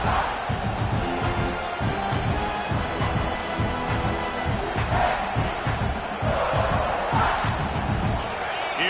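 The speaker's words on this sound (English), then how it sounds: "this crowd is turning it up a notch" Stadium crowd at a football game roaring loudly and steadily, the cheering swelling at moments over a dense, sustained wall of voices.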